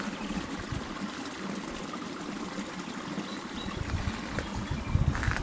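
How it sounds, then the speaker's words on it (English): Rushing floodwater after a deluge, heading toward the River Shannon, a steady loud roar of flowing water with continuous turbulent splashing and no voices. "But listen to the thunder of that water."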